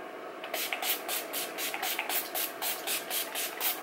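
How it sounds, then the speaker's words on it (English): Mary Kay Makeup Finishing Spray mists out in a rapid run of about a dozen short, even pumps, each a crisp close hiss in quick regular rhythm. "I'm going to be using my Mary Kay Makeup Finishing Spray."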